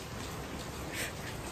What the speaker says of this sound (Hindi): अरे बरसात बहुत तेज हो रही है